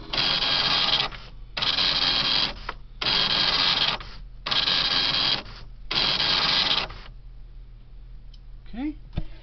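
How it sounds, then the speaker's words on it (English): A computer printer prints test output sent through its printer port, in five loud, even mechanical bursts separated by short pauses, then a quieter hum and a few faint clicks as it settles. "this is a test of the printer port"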